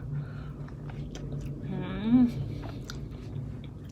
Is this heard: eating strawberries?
yes